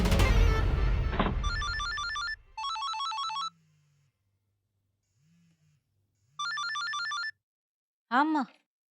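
Telephone calling out to papa: after a loud burst of other sound, an electronic ringtone trills in several regular bursts with short gaps, close and clear, alongside brief low tones.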